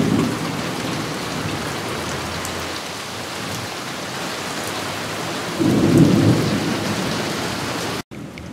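An Oklahoma thunderstorm with steady heavy rain and rolling thunder, loud and continuous, with a deeper rumble swelling partway through before an abrupt cut.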